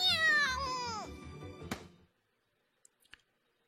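A video game cat lets out a long, drawn-out meow that falls in pitch over about two seconds, followed by silence and a couple of faint clicks.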